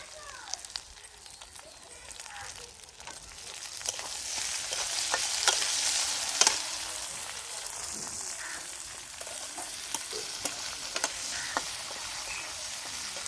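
Prawns with long beans and garam masala frying in a pan, a steady crackling sizzle that swells gradually, punctuated by scattered clicks and taps of stirring, fairly quiet throughout.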